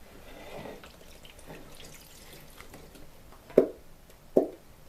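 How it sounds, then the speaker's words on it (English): Water sloshes in a bottle filled halfway while gingerbread slime is being made, a faint, soft swishing that ends in two brief, louder splashy shakes near the close, with no talk. "Shake it up a bit."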